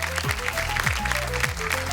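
Audience applause fills a televised Marathi stage event, continuous clapping running throughout beneath a bright musical sting with rising tones and a deep bass pulse.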